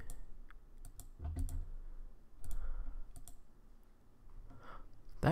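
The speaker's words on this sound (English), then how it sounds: "I'm just like spam clicking everything" Rapid mouse clicks while playing a browser puzzle game, sharp close taps coming in bursts and scattered singles over faint room noise, with no talking.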